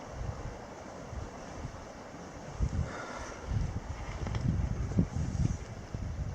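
Wind gusts across an exposed lakeside campsite in the Boundary Waters, a continuous low rumble and buffeting that swells toward the end, with faint lapping water beneath and no talk.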